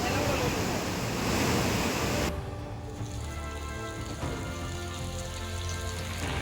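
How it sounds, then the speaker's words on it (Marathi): Heavy monsoon rain pours down over Konkan, a dense steady roar for the first couple of seconds, then softer hissing rainfall continuing under a faint tonal background. "कोकणाला पावसानं झोडपलं. रत्नागिरी, सिंधुदुर्ग, रायगडमध्ये तुफान पाऊस"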